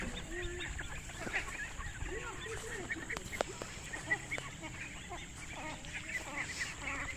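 Ducks by a pool of water quack and chatter faintly at a distance, with low voices and outdoor background noise around them.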